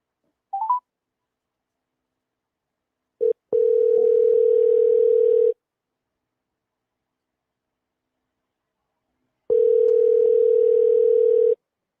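Telephone line tones while a radio host calls a listener: a short dialing blip, then two long, steady, loud tones of about two seconds each separated by silence, with no voices.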